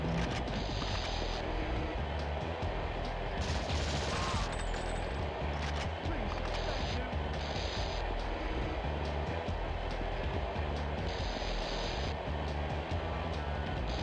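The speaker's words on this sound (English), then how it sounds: "gunfire going around him" Gunfire from the PS1 game The World is Not Enough, dense bursts of rapid shots ringing out continuously over a rumbling subway backdrop, with scattered sharper reports throughout.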